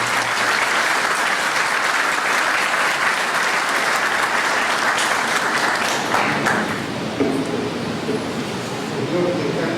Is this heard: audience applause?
yes